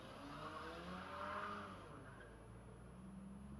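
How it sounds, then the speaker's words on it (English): A vehicle does a one-wheel peel-out on the street, its engine rising and falling in a faint, distant rev with a hint of tire noise over steady background hum. "What a one-wheel peel."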